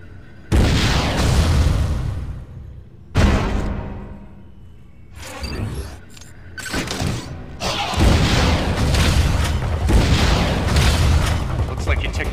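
A missile is fired and explodes in the Metroid Other M video game, heavy booming blasts and rumbling crashes arriving in several loud bursts with dialogue over parts of it.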